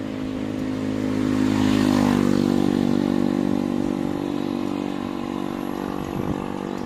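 A motorcycle ridden through the town of St. Bernard in Southern Leyte, its engine droning steadily and loudly close by with a rise in pitch as it accelerates, plus wind noise and no talking.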